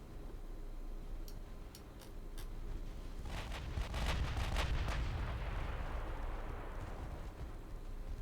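A warship launches torpedoes in a naval video game: a burst of rapid sharp launching thumps over a constant low engine and sea rumble, no talk.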